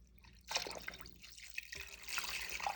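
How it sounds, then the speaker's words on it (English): Water is poured into a pot of beef bones for broth, a continuous splashing and trickling that starts abruptly and swells as the pot fills, close and fairly loud with no talk. "So this is 7 cups of water going in."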